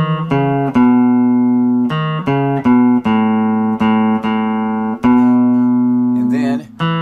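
A clean electric guitar plays the short repeating intro riff of a song, loud and close, ending with a brief scrape of strings.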